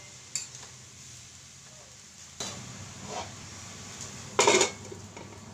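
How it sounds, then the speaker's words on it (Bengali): Malabar spinach with salt and turmeric is stirred in a pan, giving a soft sizzle under sparse scrapes and a few sharp metallic clinks of the spoon against the pan, close and fairly quiet. "দিয়ে দিতে হবে পরিমাণ মতো নুন আর হলুদ, দিয়ে ভালো করে এটাকে নাড়তে হবে"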